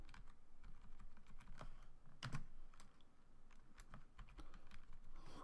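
Computer keyboard keys are pressed while playing Tetris in a terminal, with quiet, irregular clicks and taps, including a firmer spacebar press, over a soft background hiss.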